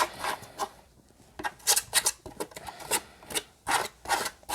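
Repeated rasping scrapes as a tool scratches texture into dried paint laid over a pink base coat at a children's painting workshop; close, uneven strokes in bursts, with no talking.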